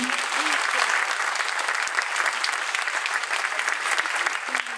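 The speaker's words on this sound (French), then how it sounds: "Encore un petit applaudissement pour eux" An audience applauds students after a hip-hop dance performance at a private middle school in Tourcoing, a loud, dense and continuous wave of clapping that holds steady throughout.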